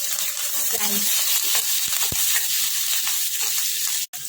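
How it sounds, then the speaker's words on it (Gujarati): Cumin seeds, ginger-garlic paste and chopped green chillies sizzle in hot oil, giving a loud, steady frying hiss with a few sharp crackles and pops throughout. "અહીંયા તેલ ગરમ થઈ ગયું છે એક ચમચી જીરું એડ કરીશું આપણે ચપટી આદુ લસણની પેસ્ટ અહીંયા લીલા સમારેલા મરચાં"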